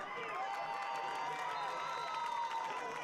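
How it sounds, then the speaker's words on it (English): Crowd at a high school football game roars steadily in the stands, a dense sustained cheer with whistling and shouts under a commentator's voice. "Crowd bringing all the noise they got."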